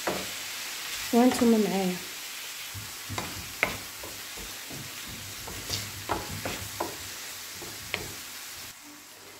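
Fettuccine ingredients being sautéed and stirred in a pan, with soft sizzling and scattered scraping clicks of a utensil, close by; a voice speaks briefly near the start.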